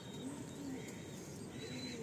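A pigeon cooing softly in a low, rounded repeated call, faint against a steady hiss of background noise.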